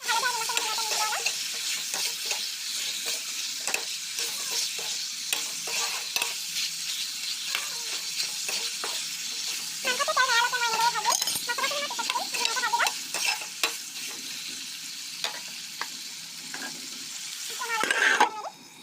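Meat fries in a pan with turmeric and salt while a utensil stirs it, a continuous soft sizzle broken by repeated scraping and clinking strokes, fairly quiet, with no talk.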